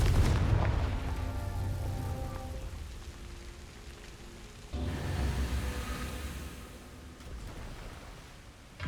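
A Confringo explosion spell in the video game Hogwarts Legacy booms with a dense, rumbling crackle. A second rolling burst swells midway and then slowly fades.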